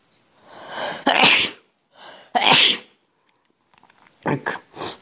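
Loud, close sneezes burst out during a Block Strike gaming session, two strong ones about a second apart followed by a further cluster of shorter sneezy bursts near the end, with quiet gaps between.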